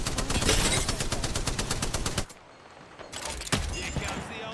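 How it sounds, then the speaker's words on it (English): Rapid volley of video-game knuckle cluster shots, a fast rattling burst of gunfire for about two seconds, a brief lull, then another loud crack and more firing, close and loud. "Stand back, knuckle clusters firing."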